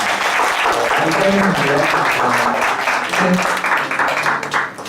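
A church congregation applauds to welcome a young man about to give a mission testimony during a Sunday worship service; dense, loud clapping runs steadily throughout, with some voices mixed in.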